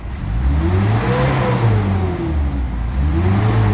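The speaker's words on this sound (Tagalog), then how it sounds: "Yan, galit na ang makina niyan." A Mitsubishi Adventure engine with a faulty RPM gauge revs up and down, a loud, close, continuous motor drone rising and falling in pitch a couple of times with no talk over it.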